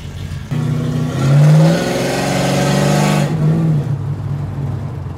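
A loud 1970 Dodge Charger R/T engine revs up hard, holds a throaty roar for a couple of seconds, then drops back to a rumbling idle.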